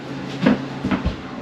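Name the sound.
cabinet drawers handled during installation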